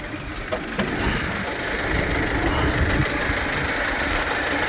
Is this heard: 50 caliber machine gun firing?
no